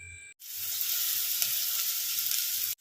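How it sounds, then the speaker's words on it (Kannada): Onions frying in hot ghee in a pan give a loud, steady, close sizzle that runs unbroken from start to finish, with brief gaps at either end. "ನಾನು ಈರುಳ್ಳಿ ಫ್ರೈ ಮನ್ಪೆರ್ಲ ತುಪ್ಪನೆ ಪಾಡ್ಯ"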